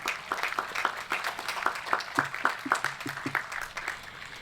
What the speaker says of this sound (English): Can we still give them a round of applause for their hard work?